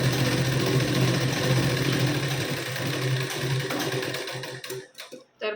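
A sewing machine runs steadily and loudly as it double-stitches the sleeve seam of a katori blouse, a continuous mechanical hum that winds down and stops near the end.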